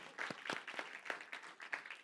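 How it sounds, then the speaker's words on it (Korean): Congregation applause during a church sermon, a brief, faint scattering of hand claps in a large room. "박수."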